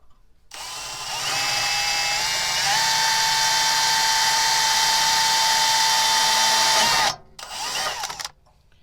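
A power drill with a small bit whines loudly into a pre-drilled 1/8 inch pilot hole, running steadily for several seconds, its pitch dipping slightly under load, then stopping briefly before a short final burst.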